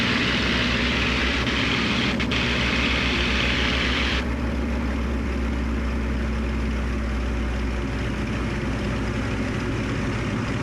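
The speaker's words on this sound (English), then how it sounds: "And it's going to reduce the engine power." A Mk IX Spitfire's piston engine drones steadily at reduced power, a deep, continuous rumble heard from inside or alongside in flight, with the higher tone dropping away partway through and the heavy low throb carrying on.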